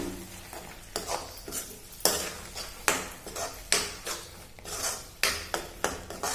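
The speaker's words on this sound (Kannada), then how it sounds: "ನೋಡಿ ಈ ಥರ ಚೆನ್ನಾಗಿ ಫ್ರೈ ಮಾಡಿ ತಗೊಳ್ಳಿ." Paneer masala ingredients frying in a pan as a utensil stirs them, with repeated loud scraping and clanking strokes against the pan at an irregular, brisk rhythm over a light sizzle, close up and without talk.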